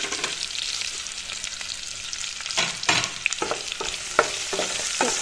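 Chicken curry paste frying in a hot wok for a mango chicken curry, a steady close sizzle with bursts of crackling and scraping stirs that grow busier toward the end, no voices.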